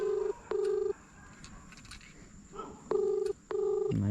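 Phone keypad tones dialing a call: four steady electronic beeps in two pairs, fairly loud and close, with faint background noise between them.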